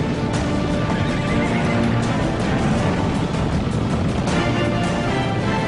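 Wild mustang horses neighing and whinnying over a dense wash of hoofbeats and outdoor noise, loud and continuous throughout.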